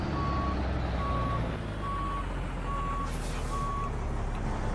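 Reversing beeps from a truck in American Truck Simulator, five evenly spaced electronic tones sounding over a constant loud diesel engine rumble, with no talking.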